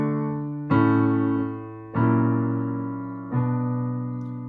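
A piano plays a chord progression in which a secondary dominant of the submediant intervenes before a deceptive cadence: three sustained chords struck one after another, each left to ring and decay, quiet and alone.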